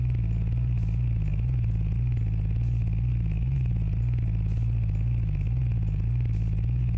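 A simulated Napier Railton car engine drones loud and steady in a deep tone with a slight rhythmic pulse and faint ticking on top, with nobody speaking.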